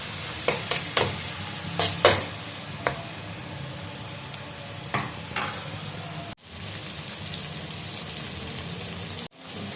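Chopped tomato is stirred into browned onions in a pan, giving a steady close sizzle with a cluster of sharp spoon clicks and scrapes early on, then fainter stirring and two abrupt cuts, with no speech.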